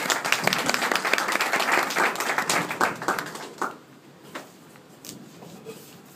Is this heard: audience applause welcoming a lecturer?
yes